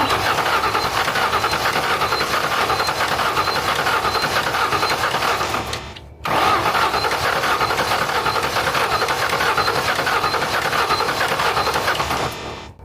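An old, long-abandoned Ford Mustang GT grinds on and on as someone tries to start it, a loud, continuous mechanical churn that cuts out once midway and then resumes without catching.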